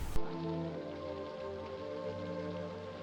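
Rain falls steadily at night in a film scene, a continuous hiss of drops on surfaces under a sustained orchestral hum, with no voices.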